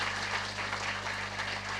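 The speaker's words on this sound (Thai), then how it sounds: "วันนี้ต้องขอพลังเสียงปรบมือ ให้กับทีมงานของผมวันนี้ที่มาให้กำลังใจผมด้วยครับ" Audience applause for a performer's team at a Thai stage event, a steady wash of clapping from a crowd that holds evenly for the whole stretch with a low hum underneath.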